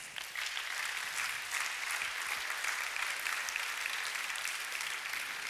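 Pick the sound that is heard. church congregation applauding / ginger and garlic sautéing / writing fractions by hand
church congregation applauding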